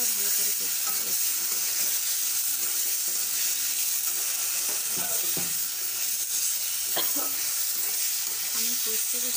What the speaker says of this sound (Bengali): মশলার সঙ্গে আলুটা আবার ভালো করে কষছি।